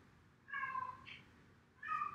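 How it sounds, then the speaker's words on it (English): A cat meows twice, close and clear: a drawn-out meow followed after a short pause by a second, shorter one, over a quiet room background with no talking. "Maybe the cat's agreeing with you."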